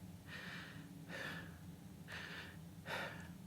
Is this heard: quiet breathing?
yes